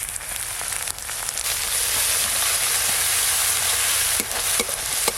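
Dried red chili paste sizzles loudly in hot oil alongside frying onion paste, a steady close hiss with occasional stirring scrapes and clinks of a utensil against the pan.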